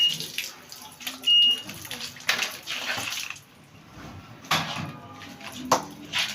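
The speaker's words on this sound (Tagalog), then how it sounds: "ilagyan natin ng konting tubig" Water splashes and trickles in uneven bursts as water is poured on a dragon fruit plant, fairly close, with some background rustling and a faint voice now and then.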